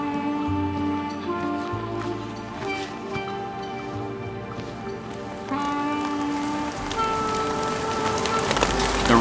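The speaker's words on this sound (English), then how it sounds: "The rains come and go" Rain falling steadily on a hiking trail along the Benton MacKaye Trail, a continuous hiss of drops on leaves and gear, fairly close, with low droning layered beneath and rising slightly toward the end.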